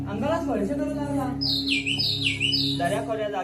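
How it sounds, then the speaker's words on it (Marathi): Birds chirp at dawn in the valleys, with a burst of bright, rapid calls in the middle of the clip over a steady droning background, and a voice-like tone at the start and end. "दऱ्याखोऱ्या जाग्या होऊन पक्ष्यांचा किलबिलाट होऊ लागला"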